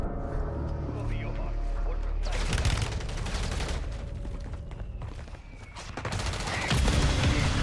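An artillery fire mission strike in the Call of Duty Warzone video game on Rebirth Island, with loud rolling barrages of explosions and gunfire that fill most of the stretch over continuous game noise.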